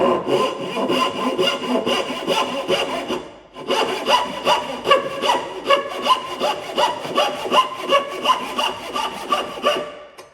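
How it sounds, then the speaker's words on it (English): A hand saw cuts timber for a mortice and tenon joint in steady, rhythmic strokes, loud and close. It pauses briefly after the first few seconds, then resumes with quicker back-and-forth passes. "Letting the saw catch on the timber gives me a little groove from which I can then begin to cut straight."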